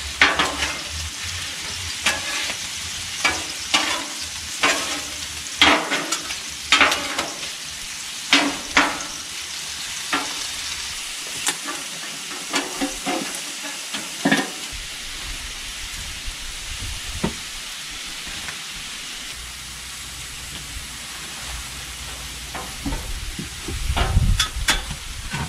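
Potatoes, meat and mushrooms fry in a pan while being stirred, giving a steady sizzle broken by repeated scraping and clattering strokes, loud and close, with no voices.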